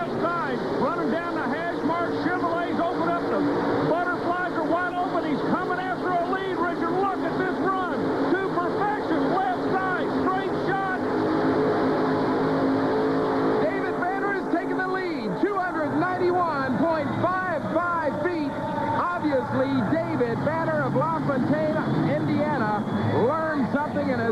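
A tractor pull run with Chevrolet engines wide open at full throttle, a loud sustained roar with rising and falling pitch that continues throughout while an announcer talks over it.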